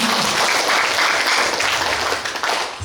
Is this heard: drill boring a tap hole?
no